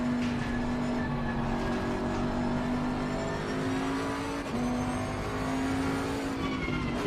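A Lamborghini GT3 race car storms past at Monza in Assetto Corsa Competizione, its engine a loud, steady, high-pitched roar that holds throughout with slight pitch shifts as gears change, no voices over it.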